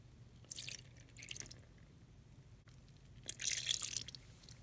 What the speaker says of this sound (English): So next we will be adding 1/2 cup of water.